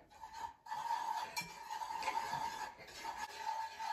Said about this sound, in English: we're gonna whisk it for a couple minutes until it gets a little thick.